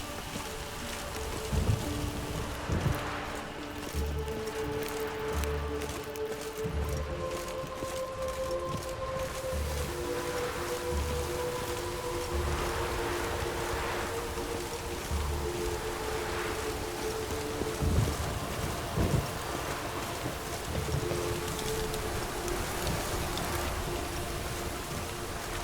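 Steady rain hisses throughout a scene from The Witcher, with low rumbling swells and a sustained droning tone beneath, heard alone without speech.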